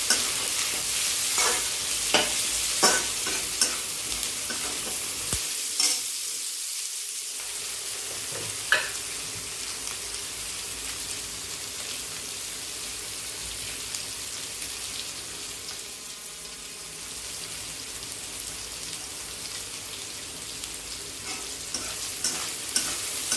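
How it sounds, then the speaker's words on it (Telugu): Paneer pieces frying in a pan for fried rice, a continuous close sizzle with repeated stirring and scraping of the spatula, fairly loud and steady throughout with no talk. "ఇలా వేగాక మన పన్నీర్ ముక్కల్ని కూడా ఒక నిమిషం వేయించుకోవాలి"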